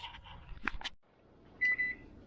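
A kitchen oven timer gives a short, faint electronic beep near the end, after a few soft clicks and handling sounds.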